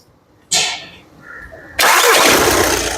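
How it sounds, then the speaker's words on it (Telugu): A 2016 Audi Q3 automatic engine cranks with a short whine, pauses, then catches and roars loudly to life up close, holding a strong, rough running noise. "సింగిల్ సెల్ఫ్ లో కార్ స్టార్ట్ అవుతుంది"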